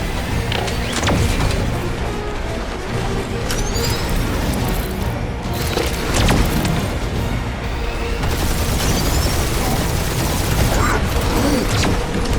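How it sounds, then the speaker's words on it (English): Sustained weapons barrage from the Guardians of the Galaxy video game: a dense, continuous roar of gunfire, booms and mechanical clatter with whooshing projectiles, loud and unbroken throughout. "Keep up the barrage."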